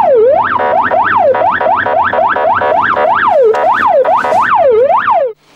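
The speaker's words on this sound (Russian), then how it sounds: "В служебной машине сигнал сирены старший лейтенант включает в экстренных случаях." A police patrol car siren wails loud and close, its rising and falling tone repeating steadily for over five seconds before cutting off abruptly.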